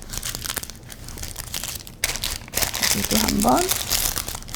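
Paper wrapping being twisted around a roll of butter, giving close, continuous crinkling and crumpling with brief crunches, while someone speaks briefly over it.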